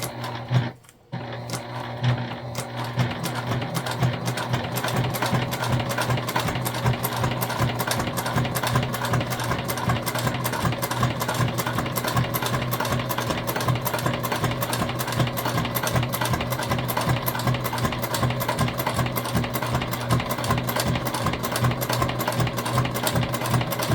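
A sewing machine stitches steadily through a bulky section of a tote bag, a close, continuous rapid mechanical whir that runs almost without break after a brief pause at the start.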